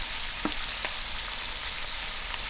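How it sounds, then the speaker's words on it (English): Meat fries in a pot with black pepper and ground cardamom for Guyanese pepperpot, a steady close hissing sizzle with a couple of faint stirring taps and no talking. "So I'll let these fry up a little"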